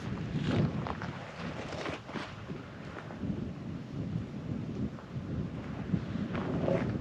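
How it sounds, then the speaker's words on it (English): Gusty wind buffeting the microphone at a hilltop lookout in the Flinders Ranges, in low rumbling bursts, steady and fairly loud, with no speech. "It's a bit windy up here"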